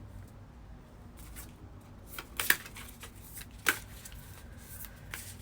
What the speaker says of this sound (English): I need to shuffle a little more before I get more out